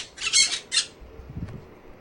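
A parrot gives two loud, harsh squawks in quick succession close by, then falls quiet apart from faint low rustling.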